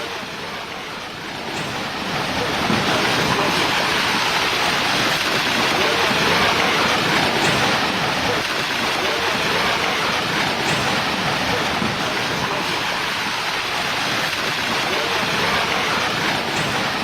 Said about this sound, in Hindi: असम के गुवाहाटी में तेज बारिश के चलते सड़क पर दरिया बह रहा है।